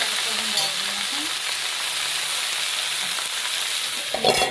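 Washed bathua greens sizzle steadily in hot oil with chilli tempering, a loud, continuous frying hiss with light stirring scrapes and a clatter near the end.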